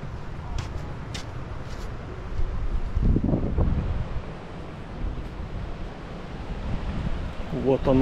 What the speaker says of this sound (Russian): Вот оно море.